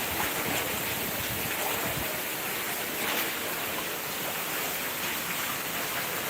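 Steady, dense rush of heavy monsoon rain pouring down in Mumbai without pause, a broad constant hiss close by with no voices.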